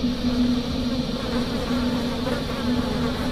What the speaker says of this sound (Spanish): una cortina de moscas bajaba desde el techo y cubría toda la entrada